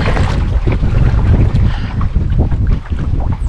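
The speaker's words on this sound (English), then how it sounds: "there's a brutal headwind" Strong headwind buffets the microphone on Club Lake during a canoe trip, a loud continuous rumbling roar with gusty surges throughout and no talking.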